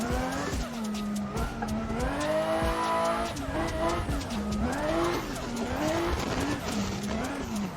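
A car drifting in the racing game Assetto Corsa, driven without clutch or e-brake, gives a continuous engine drone that rises and falls with revs, mixed with tire squeal and skidding and a faint voice in places.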